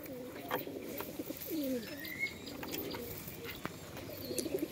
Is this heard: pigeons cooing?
yes